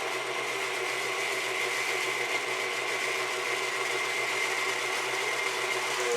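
A stand mixer whisks sugar, baking soda and salt in a bowl for a coffee cake, giving a steady, even mechanical whir that runs on unbroken at moderate volume.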